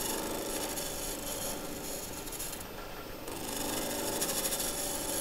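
A sharp turning tool shaves a spinning blank of wood and Alumilite on a lathe, giving a steady, close scraping rasp that runs on evenly with slight swells and no voices.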